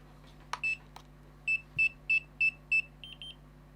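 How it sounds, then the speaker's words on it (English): FPV goggles beeping while binding to an Emax Babyhawk II HD drone: a few clicks, then a rapid series of five short even beeps followed by a quicker, fainter triple chirp, close and clear over faint hum. "You just heard the beeps, that bound perfect."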